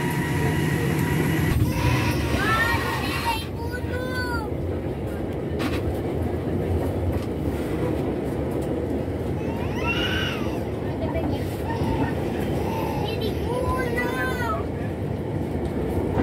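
A steady low rumble of the Kutojaya Selatan passenger train rolling on the rails in Indonesia, arriving at Tasikmalaya station, fills the whole stretch, with faint squeals and a voice talking intermittently underneath.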